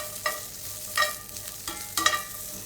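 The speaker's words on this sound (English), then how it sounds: "I just want to pretty much dry fry these green beans" Green beans dry frying in a pan for a vegan creamy pesto pasta, with a quiet steady crackle broken by three brief louder bursts of stirring or tossing.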